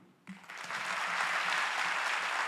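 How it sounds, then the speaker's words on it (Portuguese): Applause from a seated audience at a municipal planning forum after a speech, bursting in suddenly and swelling into a steady, sustained clapping that fills the room. "uma salva de palmas ao senhor Silvio Barros"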